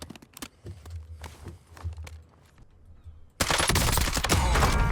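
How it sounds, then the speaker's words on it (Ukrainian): Gunfire in the Warzone video game sounds as sharp, scattered cracks and short bursts, some distant and thin, before a loud, dense barrage of close shooting takes over at the end. "по ньому стріляли здалеку"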